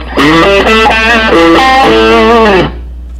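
A saturated, overdriven electric guitar through a Boss Katana 100 amp plays a sustained melodic phrase of held notes, loud and gritty, then cuts off.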